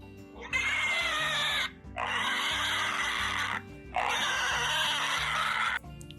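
Pigs squeal loudly and shrilly in three long bursts over a steady bed of lower grunting and oinking, close and continuous.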